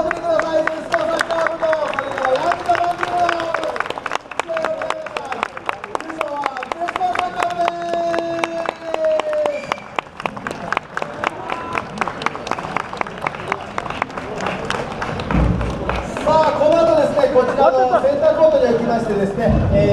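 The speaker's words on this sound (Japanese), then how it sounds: "最後に温かい拍手を両チームにお送りください。" Applause rings out for both teams after a radio-controlled robot soccer final, with steady clapping from the crowd under an announcer's voice and amid mixed speech and background sounds.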